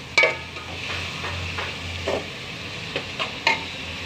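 Onions sizzle gently in a pan while a utensil stirs them, giving a soft continuous frying hiss broken by several light scraping knocks against the pan.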